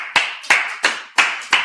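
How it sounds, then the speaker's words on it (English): Hands clap in a quick, even rhythm, five sharp claps in under two seconds, loud and close, as a congregation applauds at the end of a Sabbath service. "Class dismissed. Clap it up."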